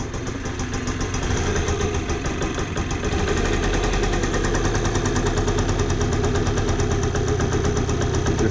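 A mystery scooter's small engine runs steadily just after starting, a close, even knocking idle that settles into a slightly higher, busier rhythm partway through, with no talking.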